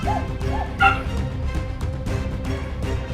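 A distressed dog yips, whimpers and barks repeatedly, close and fairly loud, over a constant dense background of other sound, with rhythmic bursts recurring throughout.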